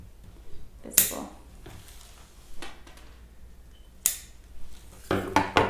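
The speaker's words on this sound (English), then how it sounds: "I'm just going to trim a few extra little branches that I don't want visible." Scissors snip extra little branches off a handmade wreath, with a handful of sharp, isolated clicks and cuts spaced apart over quiet rustling.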